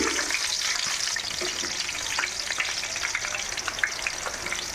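Sliced onions sizzle steadily in hot oil in a pan for a Nellore-style fish curry, a dense continuous crackle with small pops throughout, close and fairly loud, with no talking.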